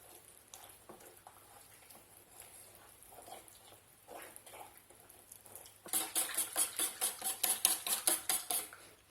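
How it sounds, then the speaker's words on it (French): Crêpe batter whisked in a bowl while milk is added, quiet scraping and stirring at first, then a loud, fast rhythmic metallic whisking clatter through the second half. "on n'hésite pas à bien mélanger une fois que tout est incorporé"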